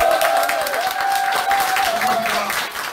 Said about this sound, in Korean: 힘찬 박수를 한번 주십시오.